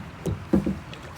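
Kayak or canoe paddling on water while turning, with a few soft, close paddle strokes and splashes in quick succession against a quiet background.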